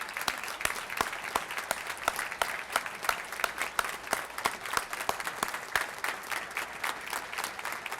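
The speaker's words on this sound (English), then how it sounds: "I'd like to give you a round of applause for all your help." A modest crowd applauds recruit academy instructors at a recruit class graduation ceremony, with steady, fairly distant clapping and distinct individual claps standing out throughout.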